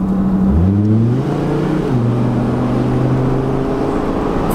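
A Chevrolet Colorado Xtream pickup pulls away under moderate throttle with the window down, its engine rising in pitch and then settling after an upshift, intake noise clear and close in the cabin.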